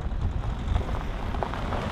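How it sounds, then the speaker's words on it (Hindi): Rain falling outdoors in the mountains near Padum, a dense, steady patter with a low rumbling background, heard close and without speech. "बारिश आ रही है, गीले हो रहे हैं"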